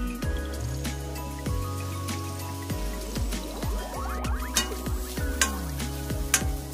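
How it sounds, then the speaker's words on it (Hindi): Onions fry in a pan for a restaurant-style mushroom masala gravy, giving a steady close sizzling hiss with scattered crackles, accompanied throughout by gliding tonal sounds. "आमचो कांदो जालो फ्राय"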